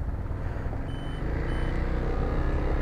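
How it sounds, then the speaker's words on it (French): Piaggio MP3 300 three-wheeled scooter sounding its parking-brake warning: a pair of short, thin high beeps over a steady low engine and street rumble. "ça fait bip bip comme un MP3, frein à main"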